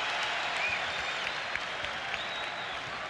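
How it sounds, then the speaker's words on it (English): A large arena crowd applauds steadily at a 1996 NBA basketball game between the Philadelphia 76ers and New York Knicks at Madison Square Garden, a dense, loud, sustained wash of clapping and cheering. "And the crowd reacts as John Wallace reports in for the first time"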